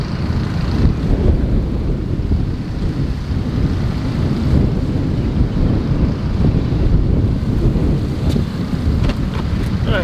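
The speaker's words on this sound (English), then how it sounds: "I'm sure they can hear the wind." Strong wind during a sandstorm at a hotel gym, a loud, steady low roar buffeting the microphone throughout, with no speech over it.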